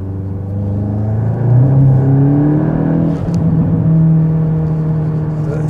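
A VW Golf 8 GTI Clubsport engine in sport mode revs up with a rising throaty tone, eases off briefly, then climbs again into a steady, loud growl heard from close range with no talking.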